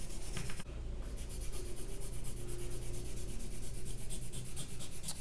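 A pencil shades fur on paper with the lead laid almost flat, giving a close, steady scratchy rubbing in quick repeated back-and-forth strokes after a brief pause near the start.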